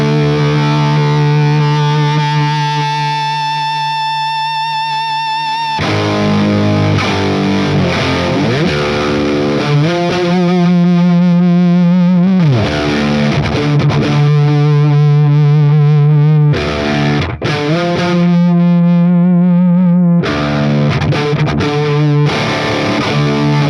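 An electric guitar runs through a SoloDallas Storm pedal, a Schaffer replica, set for heavy high-gain distortion, playing loud sustained chords and riffs with effects shimmer for over twenty seconds, with no talking.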